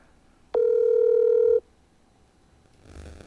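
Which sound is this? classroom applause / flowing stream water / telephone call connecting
telephone call connecting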